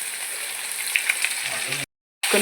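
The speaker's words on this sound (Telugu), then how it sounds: "కట్ చేసి పెట్టుకున్న క్యాప్సికమ్ ముక్కలను అయితే వేసేసుకుందాం." Capsicum pieces fry with egg in a hot pan, giving a short, even sizzle that cuts out briefly near the end before resuming.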